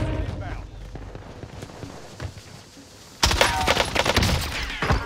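Gunfire from a FARA 83 rifle in Call of Duty Warzone, heavy bursts of shots in the latter half of the clip, sounding loud and close over in-game noise and talking.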